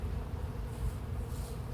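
A dense, steady buzz of many honeybee foragers droning close by as they return to the hive, continuous and moderately loud with no voices.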